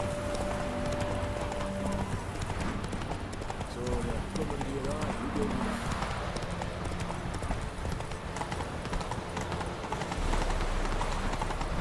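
The horse Roach trots in The Witcher 3, with a rapid, even clip-clop of hooves running throughout at moderate volume while a person talks over it.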